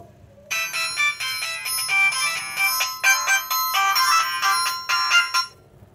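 A keypad phone rings for an incoming call, playing a bright electronic melody of rapid repeating notes that sounds loud and close for about five seconds before stopping.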